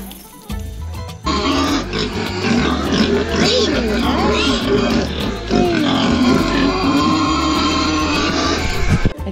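Pigs grunt and squeal loudly and continuously, close by in rural Cuba, a dense overlapping chorus of snorts and guttural noises.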